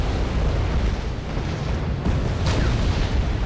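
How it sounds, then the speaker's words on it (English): Artillery shells land in the Wargame European Escalation strategy game, a loud, continuous rumbling barrage of overlapping booms with a sharper burst partway through and no voices. "My artillery's still shooting."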